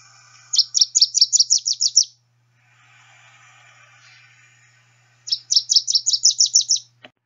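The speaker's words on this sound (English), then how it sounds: "Our male Wilson's warblers produce a set of staccato notes, which sound like they're running out of steam at the end." Male Wilson's warbler song: two bursts of rapid, high staccato chip notes, each series of about eight notes weakening toward the end, separated by a quiet pause with faint background hiss.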